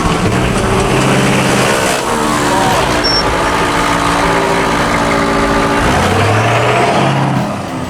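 McLaren 720S engine running loud and close, a steady throaty rumble that rises and shifts in pitch near the end, with voices talking over it.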